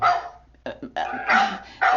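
A dog barks several times in short bursts, heard through a child's open microphone during an online early elementary class, fairly close and fading between barks with no talk over it.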